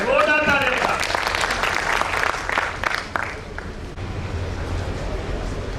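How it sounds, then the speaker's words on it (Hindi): A crowd at an event in India applauds loudly to welcome a speaker as a voice finishes speaking, then the clapping thins out into a low rumbling background. "आप तालियों से उनका स्वागत करें।"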